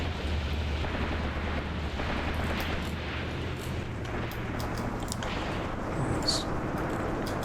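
Machine gun and artillery fire in the Graviteam Tactics war game, a continuous rumbling barrage of distant booms and bursts beneath a low engine drone, steady and fairly faint throughout.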